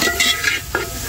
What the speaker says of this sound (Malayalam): അപ്പം നന്നായിട്ടൊന്ന് മിക്സ് ചെയ്ത്